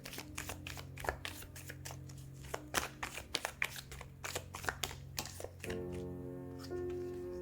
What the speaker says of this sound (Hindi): सो सबसे पहले हम कार्ड शफल कर लेते हैं।